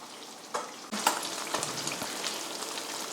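Mixed eggs fry in a pan with garlic, a steady close sizzle broken by a few sharp stirring scrapes and spatters.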